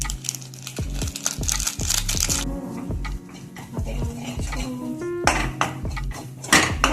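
A spoon stirring Maggi noodles with extra masala in a metal pan gives repeated clinks and scrapes in an uneven rhythm, close and fairly loud, with no talking.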